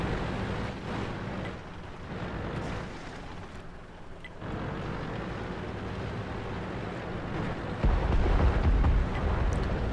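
A car explodes in the World of Tanks video game, a dense, roaring rumble that rolls on for the whole stretch and swells heavier and louder near the end.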